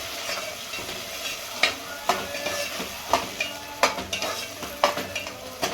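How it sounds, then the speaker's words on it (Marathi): Masala stir-fries in a pan for egg biryani, a soft continuous sizzle broken by sharp, regular scrapes and clinks of a spatula against the pan, close and fairly quiet with no talking. "आता थोडासा परतून घेते"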